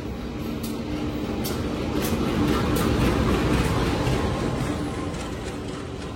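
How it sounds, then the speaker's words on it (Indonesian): A local train arrives at a station in Bandung, a steady rolling rumble that swells in the middle and then eases, heard from nearby on the platform with no voices. "Keretanya baru sampai ya teman-teman."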